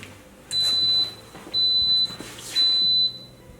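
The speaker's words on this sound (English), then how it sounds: "When it starts beeping, right away it goes beep, beep, beep." Three evenly spaced electronic beeps from an Instant Pot pressure cooker cooking brown rice, each about half a second long, ring out clearly over a quiet background.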